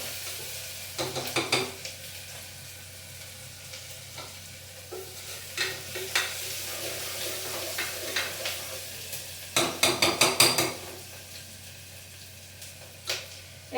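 Ginger garlic paste fries in a pan for pallav, a steady sizzle with bursts of stirring and spoon scrapes, clustered around the middle and near the end, close and moderately loud with no talking.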